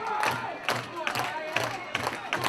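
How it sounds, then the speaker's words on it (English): A wrestling arena crowd roars and cheers during a Ryse Grand Championship match, a dense sustained din with rhythmic surges like chanting or clapping, and an announcer's voice running over it. "This crowd has come to life in ways I've never seen before"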